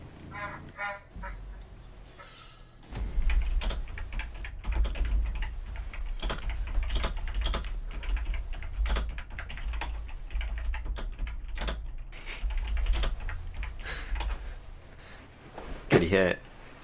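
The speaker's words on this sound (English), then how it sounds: "I can tell when you're going to put something in chat because I can hear my keyboard." Computer keyboard typing during a gaming livestream, a steady run of quick clicks for most of the stretch with people talking over it.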